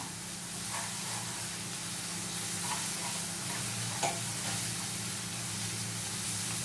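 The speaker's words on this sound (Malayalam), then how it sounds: "ginger garlic paste ഒന്നിച്ചിടാം" Ginger garlic paste fries in a pan with a soft, continuous sizzle while a utensil stirs it, leaving a few faint scraping clicks. It sounds close and fairly quiet, with no talking.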